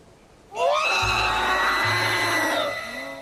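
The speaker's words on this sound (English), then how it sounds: "What is that soul-splitting scream?" A creature in the Van Helsing 3 video game lets out a long, loud, shrill scream that holds for a few seconds over a low rumbling drone, then fades out.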